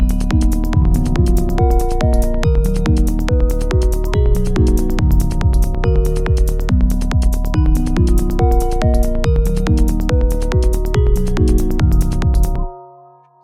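A loud melodic psytrance section made in Bitwig drives along with a fast, steady bass and kick pulse under a stepping synth melody, then cuts off abruptly near the end, leaving a brief fading tail.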